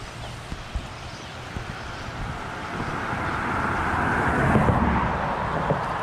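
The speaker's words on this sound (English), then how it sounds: "another car is coming" A car passes on a small rural road beside a river, a steady broadband whoosh that swells toward the end as it draws nearer, with light wind and a few faint bumps.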